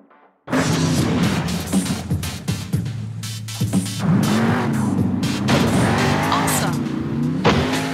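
A monster truck in the PS5 game Monster Jam Steel Titans: a loud engine roar kicks in abruptly after a brief quiet, climbing and falling in pitch with tire squeals and skidding across the run.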